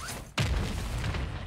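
A sudden heavy boom from a mortar strike in a video game, followed by a sustained rumbling, crackling roar.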